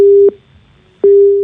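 A phone busy tone after a call is cut off: two steady beeps at a single pitch, each loud and alone, separated by a short gap, with only a faint hum between them.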